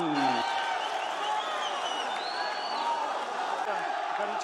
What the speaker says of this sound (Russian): И под ваши аплодисменты